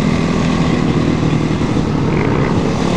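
Around a hundred motorcycles on a group holiday ride roar together in a loud, continuous blended engine drone that stays steady and close throughout.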